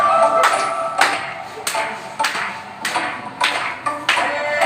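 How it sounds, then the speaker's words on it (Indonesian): Rhythmic clapping from a church congregation at a revival service, about one clap every half second, steady and fairly close over sustained musical tones. "Dan sedikit tepuk tangan dong."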